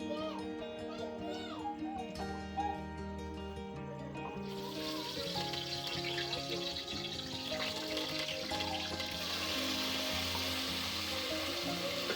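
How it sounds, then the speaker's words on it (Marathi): Hot oil bursts into a loud, steady sizzle partway through as coriander, curry leaves and garlic hit the tempering oil, crackling continuously under music and a voice. "कोथिंबीर, कढीपत्ता, लसूण फोडणीला दिलाय."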